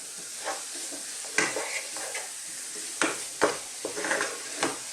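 Mushrooms and chopped garlic gently cooking in a pan for beef stroganoff, a steady soft sizzle broken by several stirring scrapes and clinks of a utensil against the pan, close by with no talking.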